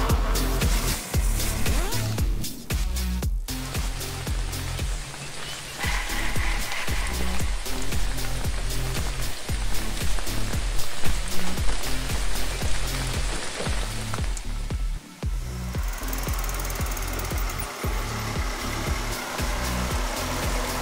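Heavy rain pours down throughout a bike ride, a dense, loud, steady patter and hiss with occasional gusts and knocks, no voices heard.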